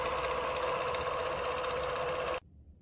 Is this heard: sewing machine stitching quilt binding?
yes